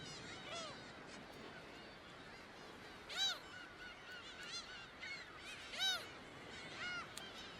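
A crowd of summer migratory birds at their nesting grounds, distant honking and goose-like calls rising in a few louder bursts over a constant low chatter of the flock.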